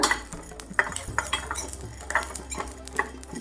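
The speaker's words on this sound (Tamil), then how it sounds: "நல்லா லோ ஃப்ளேமில் வச்சுட்டு எண்ணெய் எதுவுமே ஆட் பண்ணாமல் பாருங்கள் நல்லா பொரிஞ்சு வருது" Black peppercorns dry-roast in a pan over a low flame, stirred with a utensil, giving a busy patter of light crackles and rattling scrapes against the metal, close and continuous, with no talking.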